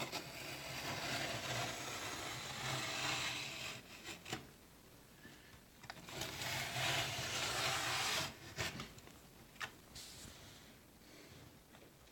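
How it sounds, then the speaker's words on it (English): Quilling paper strips taped to a cutting board are sliced with back-and-forth scraping and rubbing strokes, several bursts of cutting separated by brief pauses, close and fairly quiet. "Then I cut my slices of paper like this."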